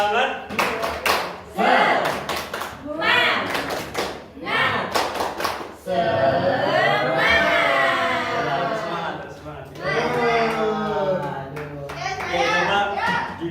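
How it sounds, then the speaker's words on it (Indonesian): A seventh-grade class of children doing rhythmic spirit clapping in a lesson, sharp patterned bursts of hand claps mixed with their chanting voices, close and lively. "Kita tepuk semangat. Ya, semuanya tepuk semangat."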